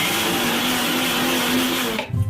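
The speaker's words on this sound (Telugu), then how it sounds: "మనము ఇంకొకసారి బాగా మిక్సీ ఇంకొక 5 నిమిషాలు రుబ్బేద్దాం" A kitchen mixer grinder whirring loudly and steadily as it grinds turmeric into kumkum powder, then cutting off abruptly near the end.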